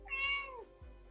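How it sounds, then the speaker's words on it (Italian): A cat meows for food indoors, one clear close meow that rises and then falls away, followed by a soft low bump, with a quiet steady background and no talk. "la gatta che è qua che sta miagolando e mi sta chiedendo di andarle a dare un po' di cibo"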